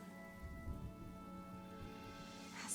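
Soft, steady rainfall in the video game Honkai: Star Rail, a faint continuous patter with a low hum beneath it and no voices.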